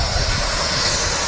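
Rolls-Royce-powered Jet2 Airbus A330 jet engines at Manchester Airport, a steady loud broadband roar with deep rumble, continuous throughout with no talking.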